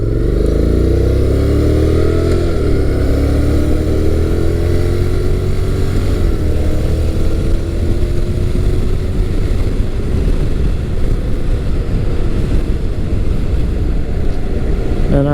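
A midsize adventure motorcycle engine, a Honda NC700X or Kawasaki Versys 650, hums loudly and steadily up close, its pitch rising and falling with gear changes.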